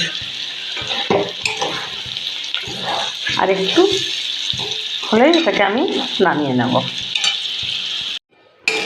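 Potatoes frying in a pan give a bright, constant sizzle with stirring scrapes, while someone talks over it; the sizzle cuts out briefly near the end.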